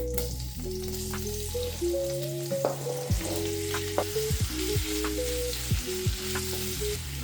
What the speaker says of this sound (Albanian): I hedhim qept në tigan.